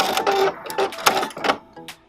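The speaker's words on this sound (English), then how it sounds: "to cut the thread and raise the needle, I'm going to press the cut button" A computerized sewing machine's automatic thread cutter and needle raise, heard as a few short mechanical whirs and clicks in quick succession, close and moderately loud, with no talking.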